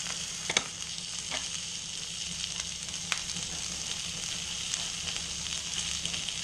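A haunch of venison searing in a hot pan gives a steady, close hiss with a few brief pops and crackles. No one speaks.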